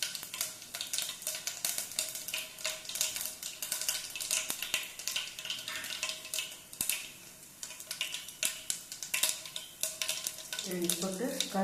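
Mustard seeds and cumin sizzle in hot oil in a pan for sambar, a soft crackling hiss with scattered pops and occasional clinks of a utensil, fairly quiet throughout.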